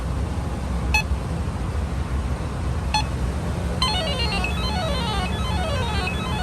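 Refrigerant leak detector on a 1991 GMC C1500 A/C service port, two single beeps followed by a rapid warbling run of tones, clear over a steady engine hum.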